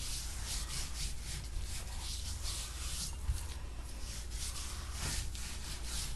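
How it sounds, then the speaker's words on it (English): Coffee rub is worked by hand into a raw London broil, a continuous close, dry rasping rub with rhythmic strokes, steady and moderately loud with no talk. "Now, I'm just going to rub this on my London Broil."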